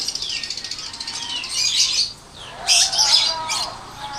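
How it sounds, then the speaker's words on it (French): Birds calling in an Indonesian town in Malang, with bright chirps and squawks, a rapid pulsing trill at the start, then louder bursts of calls, close and clear with no talking. "là on a des oiseaux"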